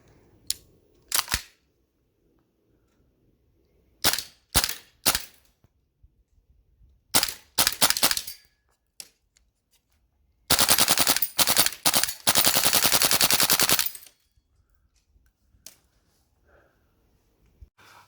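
A Tokyo Marui AKX gas blowback airsoft rifle fires at a Texas Star target, snapping out single shots and quick pairs, then a long rapid full-auto burst, all close and loud.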